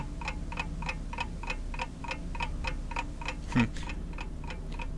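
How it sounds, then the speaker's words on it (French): An old clock in the Portal video game ticks steadily, about three beats per second, with a crisp, even rhythm sitting over a low background hum and one brief louder knock near the end. "Eh, elle fonctionne en plus l'horloge."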